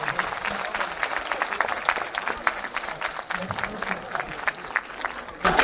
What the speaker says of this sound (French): On peut applaudir Alice Paul